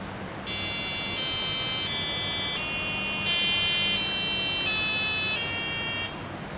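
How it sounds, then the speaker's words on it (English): A generated polyphonic SaReGaMa tone series plays steady electronic tones that step through a repeating pitch sequence, sustained over a constant background hiss. "we have generated the SaReGaMa Wadhwani series of tones"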